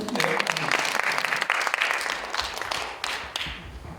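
A seminar audience applauds a professor about to give a piano performance at a church AI future-education event: dense, steady clapping from many hands, loud and close, fading slightly toward the end.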